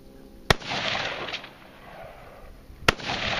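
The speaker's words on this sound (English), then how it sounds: "Which one are you shooting at, Sal?" Two sharp gunshots at a multigun match, roughly two seconds apart, loud and close, each followed by a short echo off the range.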